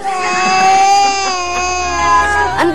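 A baby wails loudly and continuously after a song is sung to it, with tearful rising and falling cries close up and a low hum underneath.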